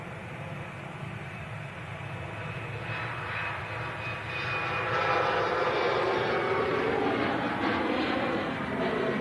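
An Embraer jet passes at Manchester Airport, its engine roar steady and broad, then swelling louder toward the end as the aircraft draws nearer, with no voices.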